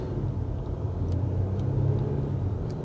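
Steady low engine rumble and road noise from inside a moving Audi SQ5, constant and fairly loud, with no talking.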